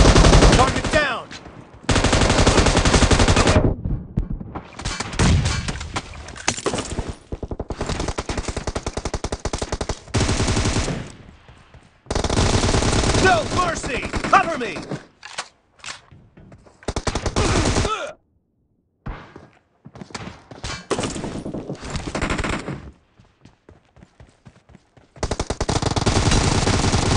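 Automatic gunfire from the mobile battle game PUBG Mobile in team deathmatch, loud close bursts of rapid shots broken by short pauses, some longer sustained volleys and brief quiet gaps.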